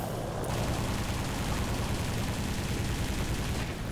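Rapid machine gun fire from a Ki-44 fighter in a flight combat video game, a dense continuous burst lasting several seconds at moderate loudness.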